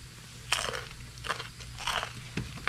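Close crunchy bites into cocoa cream cheese toast, followed by moist chewing: three or four distinct crisp bites at irregular intervals over soft mastication, with a low background hum.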